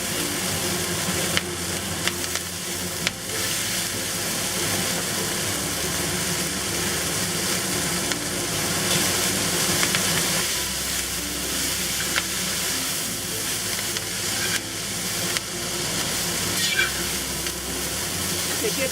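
Purslane stir-fried in a wok with fermented chili oil bean curd hisses and sizzles in a dense, continuous wash, with occasional tossing clatter close by.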